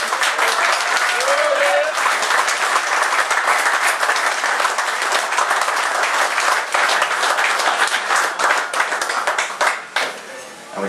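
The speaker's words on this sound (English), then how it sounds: "So a round of applause for Dick, please, for doing everything." An audience at an autumn angling festival on Lough Muckno, Ireland, gives loud, sustained applause that fills the whole stretch and thins out near the end.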